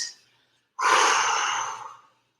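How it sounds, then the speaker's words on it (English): A single long, breathy exhale during a Pilates piriformis stretch, close and airy, preceded by the tail of an earlier breath. "now just deep breathing"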